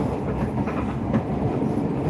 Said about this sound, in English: So yeah, we're on the train.